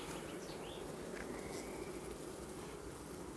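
Honey bees drone in an open hive during a queen check, a steady low hum filling the whole stretch without a break, faint and close, with no one talking.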